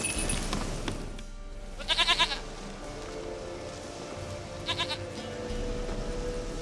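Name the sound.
goat bleating, from video game The Witcher 3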